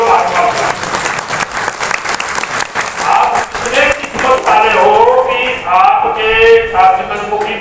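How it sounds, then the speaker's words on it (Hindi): An audience claps to welcome a mahatma at a spiritual gathering, with dense, steady applause lasting several seconds as a voice speaks over it. "ताली बजा के स्वागत करो महात्मा का"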